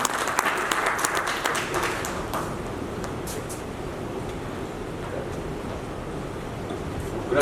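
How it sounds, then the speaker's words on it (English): An audience at an air cargo industry conference event gives a round of applause for a speaker, a steady wash of many hands clapping that holds at an even level throughout. "Ladies and gentlemen, a round of applause for him"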